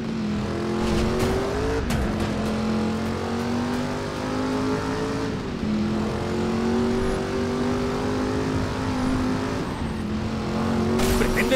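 A car engine drones steadily while driving in the Driver San Francisco video game, its pitch shifting as gears change and speed rises and falls, with brief tire squeals and revs, loud and close with no talk over it.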